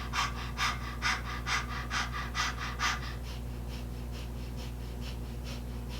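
Rhythmic panting breaths during a Kundalini yoga exercise, about eight quick even pulses over the first three seconds, then softer and fainter breathing that continues close to the microphone.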